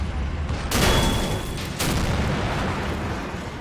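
Artillery fire from the WWII strategy game Men of War: Assault Squad, with shells bombarding a Soviet defense line: two heavy booming impacts about a second apart, loud and close, over a steady rumbling battlefield background.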